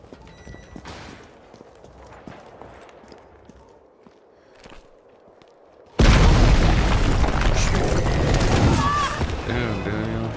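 A shotgun blast in the video game Resident Evil 3 Remake follows quiet footsteps and ambience, one sudden loud boom leading into sustained heavy roaring action, with a person talking alongside.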